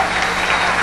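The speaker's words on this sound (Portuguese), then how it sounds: "Uma salva de palmas para eles." A dense burst of applause from a dance-hall crowd at a samba gafieira contest, loud, steady and continuous, with no talk over it.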